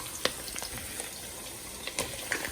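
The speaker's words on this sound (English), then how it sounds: "I'm going to actually be frying the cabbage with the onions." Cabbage and onions frying in a pan, a soft steady sizzle with occasional crackles and pops, fairly quiet and close.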